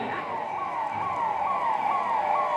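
A loud fire engine siren wails in rapid repeating sweeps, steady and continuous, arriving at an air-raid mock drill in Shivamogga, with no voices over it.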